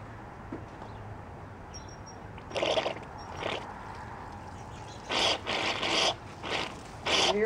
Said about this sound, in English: You can hear all that air in there.